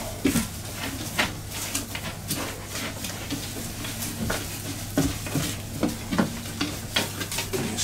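Dry tarantula enclosure substrate is stirred and mixed by hand, a close, gritty rustling and scraping in repeated bursts over a low steady background hum, no speech.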